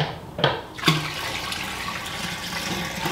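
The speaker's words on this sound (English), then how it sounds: "I'm just gonna let that drain there for a few minutes while I start bringing it up to a boil." Wort draining during all-grain brewing of a West Coast IPA, a steady rush of liquid with a couple of brief splashing knocks near the start, close and continuous without talk.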